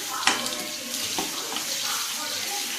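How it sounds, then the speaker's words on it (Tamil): Spices sautéing in hot oil in a pan for crab rasam, a steady close sizzle with a few sharp crackles and light stirring clatter, no voices. "எண்ணெயில் நல்லா வதங்கட்டும்"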